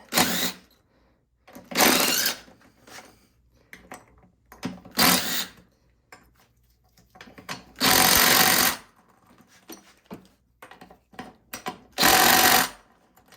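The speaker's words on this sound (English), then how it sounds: "using my little impact wrench, most of them came out pretty easy" A small impact wrench rattles off bolts holding a lawnmower engine in a home small-engine repair. Loud close bursts of one to two seconds each come four times, separated by quieter pauses with faint handling noise.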